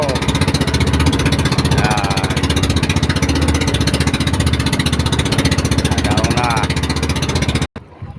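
A small fishing boat's engine runs steadily close by, a loud continuous chugging drone for most of the stretch before cutting off abruptly near the end.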